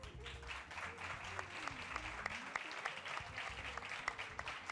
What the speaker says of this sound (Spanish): vamos a recibir a nuestros invitados de hoy con un fortísimo aplauso